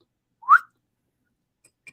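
A person imitates the high-pitched, bird-like whistle that coffee cuppers make while slurping, a single short rising whistle near the start, followed by silence and a couple of faint ticks.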